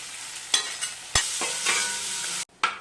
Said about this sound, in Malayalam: എണ്ണ ചൂടായാൽ ചുവന്നുള്ളി ഇടുക. ചെറിയ ഉള്ളി മൂത്ത് വരുമ്പോൾ സബോള ഇടണം.